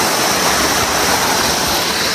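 A small stream in the Beladhunga area of Nepal rushes steadily nearby, a dense, continuous broadband water roar with no pauses and no voices.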